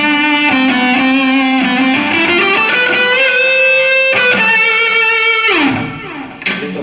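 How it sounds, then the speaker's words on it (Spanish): Sustained, singing lead notes from an electric guitar on its neck pickup carry a sweeter, smoother tone, loud and legato with bends and slides before trailing off at the end. "Si lo pones acá, tienes un sonido más dulce,"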